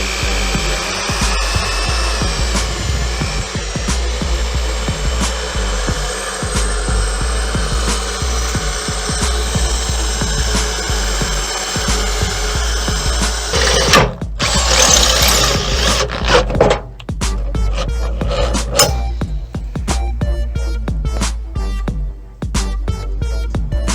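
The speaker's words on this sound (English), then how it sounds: "I need to drill out these holes for the factory frame rail bolts to go through the" A power drill bores holes through steel C-channel for frame rail bolts on a Chevy Tracker, a loud sustained whining grind that runs continuously, then breaks into shorter bursts and pauses toward the end.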